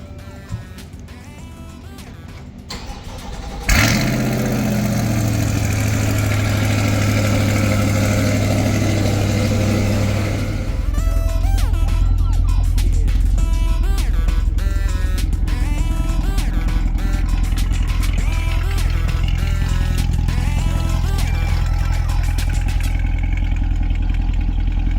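A Chevrolet C8 Corvette fires up from cold with a sharp starter bark and engine roar, then settles into a loud, steady high idle that drops to a deeper, rumbling idle, recorded close with no talking.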